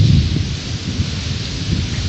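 A rainstorm brings a deep, rolling rumble of thunder over steady rain drumming on surfaces, loud and continuous, with no voices.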